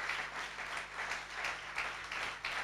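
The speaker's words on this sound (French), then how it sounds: "vous pouvez vous approcher sous vos acclamations" A church congregation applauds during a worship service, with dense continuous clapping that swells and dips in waves for the whole moment, fairly close and full.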